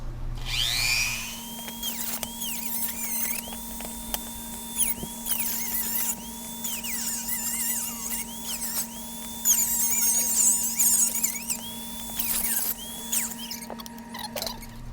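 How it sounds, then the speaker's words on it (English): A Dremel rotary tool cuts into a plastic Kato box, its high whine repeatedly rising and dipping in pitch as the bit bites and eases off, close and continuous over a steady background hum. "take the handy Dremel and try to cut this section out here and see what happens"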